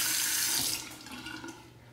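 Steady running tap water splashes over a razor being rinsed at a sink, loud and continuous, tapering slightly after the first second, with no voices.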